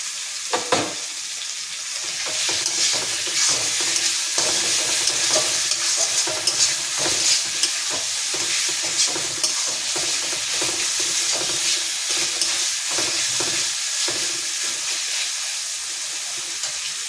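A masala of spices being stirred as it fries in a pan for a koi fish curry, giving a steady hiss and sizzle. The spoon scrapes and clicks in quick, irregular strokes close by throughout, and no one talks.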